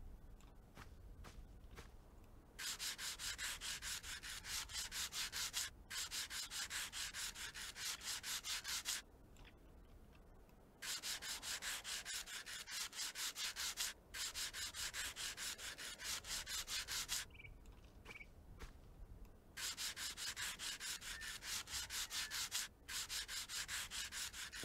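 Repeated bursts of rhythmic sanding from the Train Station Renovation game, rapid scratchy rubbing strokes lasting several seconds each, separated by short quiet gaps, steady and mid-level.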